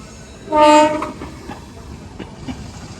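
An Indian Railways train arrives and gives one short, loud horn blast, followed by the rumble and clatter of carriages rolling past nearby.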